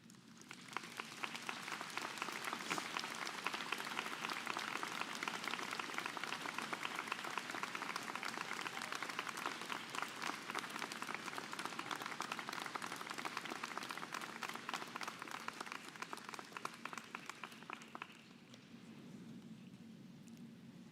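A university convocation audience stands and applauds, a long, dense wave of clapping filling the hall for most of the stretch before fading into quieter room noise.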